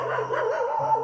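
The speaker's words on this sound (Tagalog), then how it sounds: "Ay, may aso pa." A dog gives a short whining, yelping bark in the early morning near a coffee shop, a single brief close call with a wavering tone over a low steady hum.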